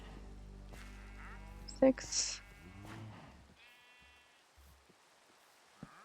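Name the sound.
sheep bleating in a pen, from the video game Minecraft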